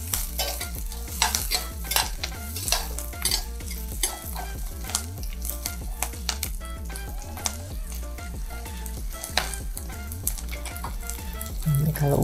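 Garlic fries in a pan with a constant close sizzle, while a spoon stirs and scrapes against the metal in quick, repeated clinks throughout.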